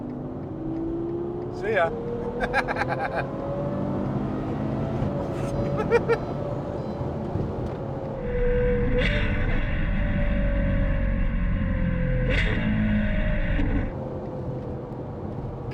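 A Novitec-tuned Ferrari 812 accelerates hard to overtake a van, its engine note climbing in pitch and swelling to a loud, sustained roar before easing off, with someone talking over it from inside the car.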